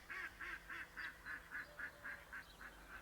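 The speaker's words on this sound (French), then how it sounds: "Oui, le canard, c'est toi" A duck quacking in a vegetable garden, a quiet, evenly spaced run of about a dozen nasal honking calls in steady rhythm, heard alone at moderate distance.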